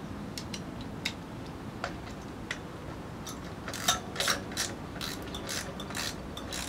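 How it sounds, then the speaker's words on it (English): Ratchet wrench tightening a motorcycle tire rim lock after the bead is set, a series of sharp mechanical clicks, sparse at first and then quicker bursts, fairly close over a low background hum. "I'm going to tighten my rim lock."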